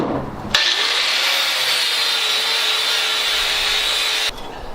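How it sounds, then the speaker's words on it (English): A power grinder works down a metal part to level it for a project built from old Trooper parts, giving a loud continuous grinding whine that starts abruptly and stops near the end, close up with no talk. "I'm having to grind a little bit of this other side down just to get this part level."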